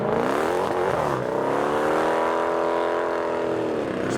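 Dodge Challenger pulling away at a custom car meet, a loud, close engine roar that rises in pitch as it accelerates, with no talk over it.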